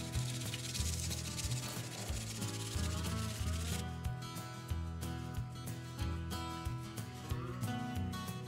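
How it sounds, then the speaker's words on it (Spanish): Steady, rhythmic rubbing of sandpaper on a plastic washer for a drone antenna, a close, continuous scratchy rasp with regular strokes and no talking. "lo que haré será lijar esta arandela de plástico"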